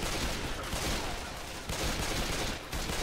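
Rapid, dense automatic gunfire in the zombie shooter game Left 4 Dead 2, a continuous barrage of overlapping shots with short breaks, loud and close.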